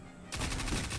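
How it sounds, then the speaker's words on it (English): Rapid automatic gunfire in Destiny 2 breaks in abruptly after a brief quiet lead-in, a dense rattling burst of shots that stays loud and steady to the end. "Go ahead and shoot us a little bit."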